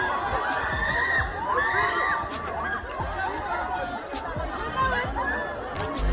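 Crowd of fans screaming, shouting and chattering as a rapper makes his appearance at a fashion week event; dense, continuous excited noise with high-pitched shrieks and yells throughout.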